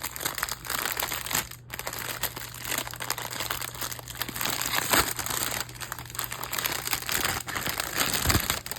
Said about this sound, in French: je vais ouvrir le sachet.